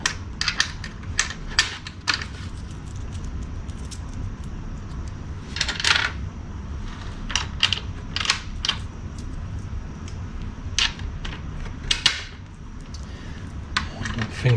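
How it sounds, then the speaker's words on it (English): Nuts are spun finger tight onto modified metal washers while mounting a water tank under a 2015 Tab Max-S trailer, giving close, sharp metallic clinks and rattles in irregular clusters over a low background hum. "Finger tight the nuts on, and go ahead and tighten these guys up."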